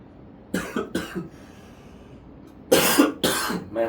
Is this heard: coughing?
yes